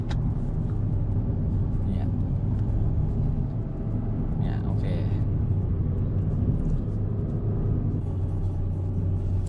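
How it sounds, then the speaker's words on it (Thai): A Suzuki Swift carrying three people and a loaded boot climbs the steep road up Doi Inthanon in low gear, its engine a steady droning rumble heard from inside the cabin, with a voice briefly audible. "ถ้าใช้เกียร์ L ยาวๆครับรอบมันจะขึ้นเรื่อย ๆ"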